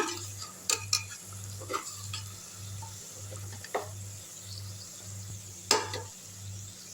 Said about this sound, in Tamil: இப்போ அப்படியே அப்படியே உடையாமல் பரட்டி விட்டுருங்க